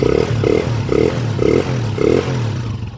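A Honda TMX155 motorcycle engine idling smoothly after adjustment, close by, with an even, regular pulsing rhythm of a few beats per second.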